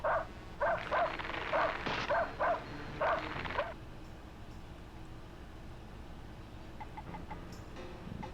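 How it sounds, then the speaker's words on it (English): A dog in the video game Blazing Dragons barks about six times in a quick, loud burst, followed by quieter game ambience with faint distant tones. "Go away, you cruddy canine!"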